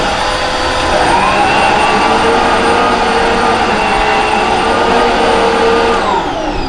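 A Riccar R40P upright vacuum cleaner runs on its bypass motor over carpet, a loud, steady whining roar that holds unchanged for the whole stretch with no pauses.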